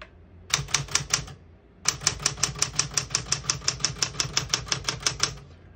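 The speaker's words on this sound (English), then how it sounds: "As you can see, all the keys type nice and none of them skip or stick." Typing on a 1967 Smith-Corona Super Sterling vintage portable typewriter: a short burst of four sharp key strikes, a pause, then a long steady run of evenly spaced, crisp mechanical clacks, close and loud with no talking.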